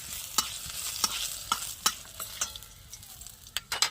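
Garlic frying in oil in a pan is stirred with a spatula, giving a soft, steady sizzle broken by sharp scraping clicks every half second or so, close but fairly quiet.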